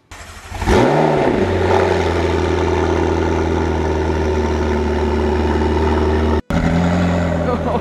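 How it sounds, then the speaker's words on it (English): A McLaren MP4-12C with a sport exhaust starts with a bark, then idles loud and deep with a throaty rumble, steady and close, briefly cutting out near the end. "this one has a sport exhaust, so it's a little louder than Chris's."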